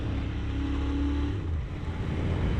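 A Royal Enfield Continental GT650 motorcycle engine hums steadily while riding on the road, its low drone partly masked by heavy wind rush and briefly holding a sustained pitch before settling.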